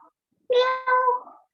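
A cat meows twice in quick succession, close and clear in a quiet indoor room, the second call longer and drawn out.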